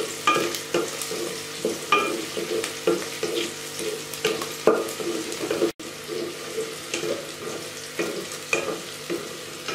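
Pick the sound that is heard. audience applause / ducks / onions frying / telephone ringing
onions frying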